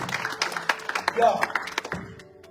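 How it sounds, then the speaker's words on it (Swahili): Church congregation clapping for God during a Swahili–English Sunday service, a burst of scattered hand claps near and loud, with voices mixed in before it tapers off. "Let us clap for God."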